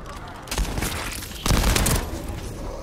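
Loud, noisy gunfire from the video game The First Descendant: a rapid cluster of shotgun blasts, heaviest in the middle.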